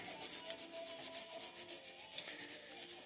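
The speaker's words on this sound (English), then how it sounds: "just apply pressure on whatever object you're trying to chrome out and keep rubbing it" Graphite powder is rubbed firmly onto an object to give it a chrome look, a quiet rhythmic scrubbing with quick regular back-and-forth strokes, close and alone.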